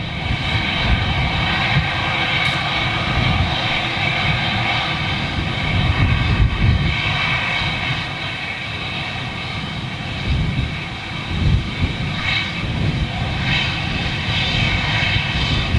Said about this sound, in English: Gonna have some fun with this spool up. Look at that, right through the engines.